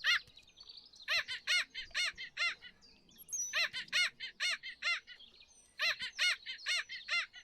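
A black skimmer in the Wingspan board video game calls in quick runs of sharp, nasal yapping notes, grouped in several bursts with short pauses, clear and close.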